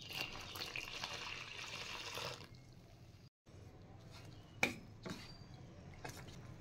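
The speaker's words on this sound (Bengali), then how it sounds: "এবার দিয়ে দিচ্ছি জল।" Water poured into semolina batter for pitha, a steady splashing pour for about two seconds, followed by quieter stirring and light clicks in a calm kitchen.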